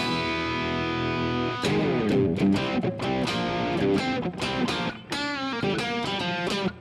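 Distorted electric guitar plays a choppy run of notes with a warbling, heavily processed tone, each strum sharp and loud.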